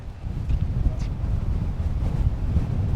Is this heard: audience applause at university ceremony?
no